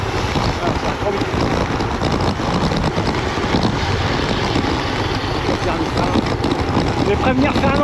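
Heavy, continuous wind roar buffets the microphone as a cyclist descends fast with a tailwind on a gravel ride, loud and unbroken throughout with faint voices buried beneath.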